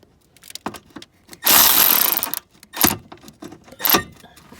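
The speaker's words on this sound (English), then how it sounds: "I'm gonna go ahead and take it out the rest of the way with my electric ratchet." An electric ratchet spins a bolt out on the rear sway bar of a Mini Cooper S R56, giving three bursts of whirring: one long buzz of about a second, then two shorter runs, with quieter metallic clicks and handling noise between them.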